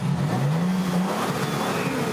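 A new car's engine revs loudly and close by, a rising drone that climbs then settles into a steady roar with wind-like noise around it, and no talking.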